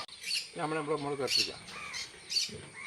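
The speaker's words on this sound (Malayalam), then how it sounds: "എന്തോരം കിളികളാണ് പറന്നു പോകുന്നതെന്ന്" Sharp bird chirps and squawks burst out intermittently overhead while a person speaks in between.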